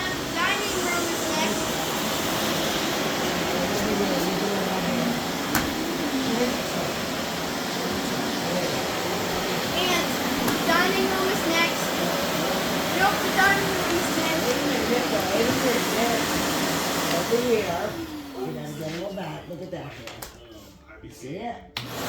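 A household vacuum cleaner runs steadily at close range for most of the stretch while people talk over it, then the motor cuts off near the end and the drone winds down.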